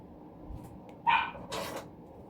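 A single dog bark, then a second short yip, sharp and fairly close against a quiet background.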